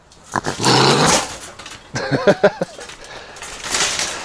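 An upset skunk growling and banging around, several rough low growls and grumbles in short bursts with quiet gaps between, close and fairly loud.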